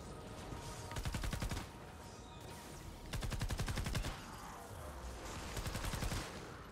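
Rapid bursts of automatic gunfire in the Fortnite Save the World video game, three separate volleys of close, sharp shots with short pauses between them, heard without talk.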